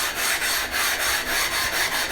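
A diamond stone rubbed back and forth over a Sigma Power ceramic waterstone to remove glazing, a steady loud gritty scraping in regular strokes, close and alone.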